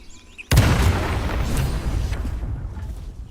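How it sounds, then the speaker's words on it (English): A modded hand cannon fires once in Baldur's Gate 3, a sudden loud blast followed by a long, rolling, crackling decay that fades over the next few seconds. "So this is the hand cannon for Baldur's Gate"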